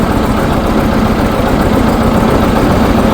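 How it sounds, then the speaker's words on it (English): A John Deere 730 tractor engine idles steadily and smoothly, a loud continuous low rumble with no change in pace. "It is a nice, smooth running tractor."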